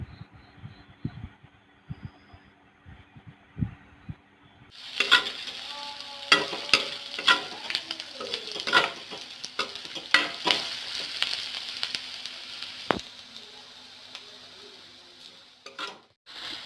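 Spiced meat masala with coriander powder and red chili is stirred in a frying pan: quiet spoon scrapes at first, then a louder sizzle with repeated sharp clanks and scraping of the utensil against the pan.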